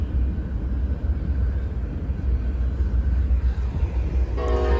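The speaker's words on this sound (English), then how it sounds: "Sorry about the train in the background." A passing train's low rumbling rail noise rolls on steadily in the distance, with a brief horn-like tone near the end; no one speaks.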